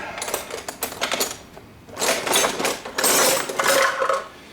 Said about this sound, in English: We'll just grab one out of the box here.